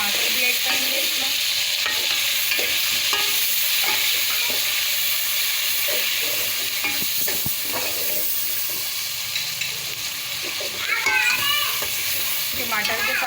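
Onion, garlic-ginger paste and tomatoes frying in a pan for aloo tahari: a constant loud sizzle with frequent stirring scrapes, and a brief burst of bubbling spatter near the end.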